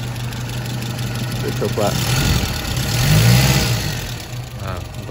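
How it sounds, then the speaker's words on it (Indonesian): Engine of a boxy Toyota Kijang pickup idling smoothly up close, with a brief rise in revs partway through while someone speaks over it. "Ini kondisi mesin hidup, bisa kalian dengar untuk suaranya ya, halus."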